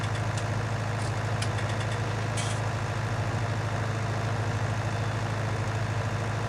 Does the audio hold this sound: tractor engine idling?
yes